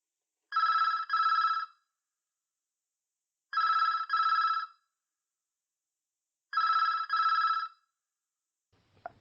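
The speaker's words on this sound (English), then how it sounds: "I'll put some phone sound effects in." A telephone rings in three evenly spaced double bursts of a clean electronic bell tone with silence between them, followed by a faint brief noise at the end.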